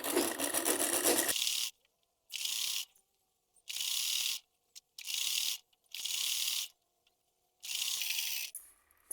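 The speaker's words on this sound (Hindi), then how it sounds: "इस तरह से सीधी सिलाई करते हुए सिलाई डाल लेंगे, सीधी सिलाई डालेंगे" A sewing machine running straight stitches on a salwar in five or six short bursts of rapid mechanical whirring, each about a second long and separated by near silence.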